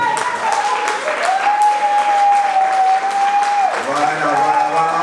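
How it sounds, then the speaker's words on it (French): An audience claps for Adeline at a live show, a continuous wash of applause running under a sustained tone and louder music or voices throughout. "Je vous demande d'applaudir très fort Adeline"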